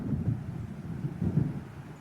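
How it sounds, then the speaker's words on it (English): Low, rumbling thunder and gusty wind of an approaching storm in the Alan Wake video game, a muffled rolling boom that swells and fades over a couple of seconds. "It seems there's a storm coming."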